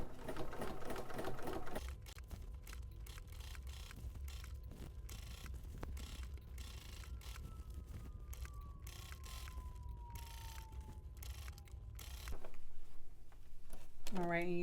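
Sewing machine stitching a zipper, a fast mechanical rattle of needle strokes running steadily and fairly close, with a slow whirring pass and a short voice near the start and end.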